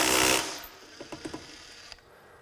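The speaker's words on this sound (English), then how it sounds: "it should hammer hard and then slow up so this bolt doesn't go flying somewhere" A Makita XGT 40V brushless impact driver working a bolt: a loud opening burst of rapid hammering, then a quick run of softer rattling knocks that fade to quiet.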